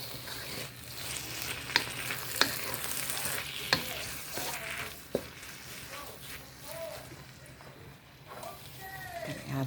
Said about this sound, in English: fold that tomato and all those delicious veggies in